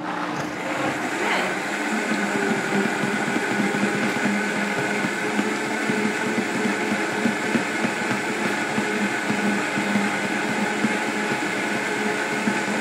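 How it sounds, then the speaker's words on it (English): A Vitamix blender runs continuously at a steady high roar while blending butternut squash soup, loud and unbroken from start to finish, with no voices over it. "turn the Vitamix on. Yeah, just hit that switch."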